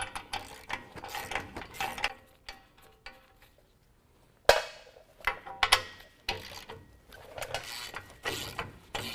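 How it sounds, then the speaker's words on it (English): A ratchet wrench clicks in quick bursts while removing the nuts on a front bumper bracket of a 2015 Ford F-150, with short pauses and a sharp metallic clank between the close, crisp runs of pawl ticks. "now we can use a 21mm to remove our last 2 nuts that are holding on our bracket"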